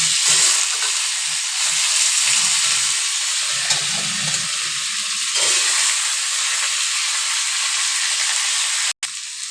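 Potato, pumpkin and papaya frying with chopped onion in hot oil for plain khichuri, a loud, continuous sizzle with soft stirring scrapes and knocks and a brief break near the end.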